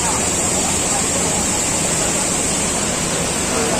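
Waterfall at Lubuk Kudo, a constant, dense, hissing roar of falling water that fills the whole short stretch without pause.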